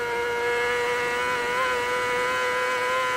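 A racing motorcycle engine screams flat out in 5th gear on a road course, a steady high-pitched whine heard close from the bike, holding constant without a break.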